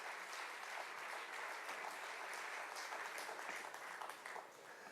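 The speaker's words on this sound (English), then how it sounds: "Big round of applause to my mother." Steady audience applause at a silver jubilee celebration, a dense continuous patter of many hands clapping at moderate, even loudness for several seconds.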